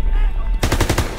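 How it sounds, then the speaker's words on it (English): Rapid machine-gun fire sweeps the D-Day beach in the Call of Duty: WW2 video game, a dense burst of loud, close, repeated shots that erupts suddenly after a brief rumble. "MG's are still sweeping the beach!"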